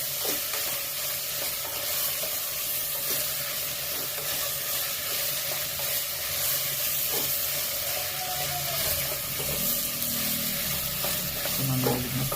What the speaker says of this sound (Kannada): ಸೊ ವೆಜಿಟೇಬಲ್ಸ್ ಎಲ್ಲ ಸ್ವಲ್ಪ ಆಯಿಲಲ್ಲೇ ಫ್ರೈ ಆಗಿರಲಿ.